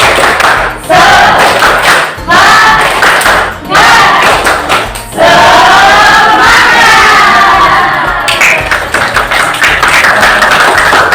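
A school class joins in a rhythmic 'tepuk semangat' chant, loud shouted voices in unison alternating with bursts of clapping and brief pauses between phrases, energetic and close.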